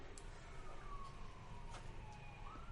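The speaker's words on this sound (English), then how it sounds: "They're coming to take you away. I hear the sirens." A distant siren wails with slowly sliding tones over a steady background rumble, faint and far off.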